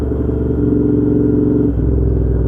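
Royal Enfield Interceptor 650 parallel-twin motorcycle engine while riding, a loud, steady low rumble close up that drops slightly in pitch near the end.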